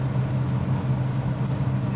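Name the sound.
classic old BMW car driving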